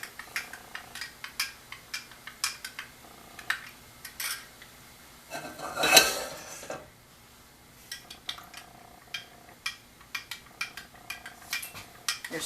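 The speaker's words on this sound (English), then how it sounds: "You're stirring it in the milk." Spoon clinking and scraping against a dish while stirring melted butter into milk, a series of light taps and rubs at a steady rhythm with a brief louder swirl midway, quiet and close.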